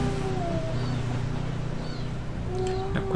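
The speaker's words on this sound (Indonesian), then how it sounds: "Ada kucing." Cat meowing indoors during a maths lesson, a few drawn-out meows standing out over a steady background hum, fairly close and moderately loud.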